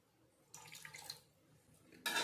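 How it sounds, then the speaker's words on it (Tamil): Water splashes in a steady stream into a cup of yogurt and semolina for a couple of seconds, then stops, followed by a brief louder gush at the end; close by, no voices. "அதே கப்பில் ஒன்றரை கப்பு தண்ணி ஊற்றிக்கலாம்"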